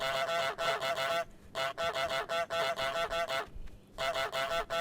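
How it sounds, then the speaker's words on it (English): A cartoon goose in Untitled Goose Game honks repeatedly in quick bursts of clustered nasal honks, loud and close, separated by short pauses, with no talk. "the goose started honking"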